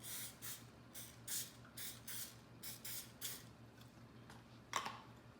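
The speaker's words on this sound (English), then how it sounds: "I then just give it just a light spray of cooking oil" Several short bursts of cooking oil spray hissing in quick succession over a low steady hum, quiet and close.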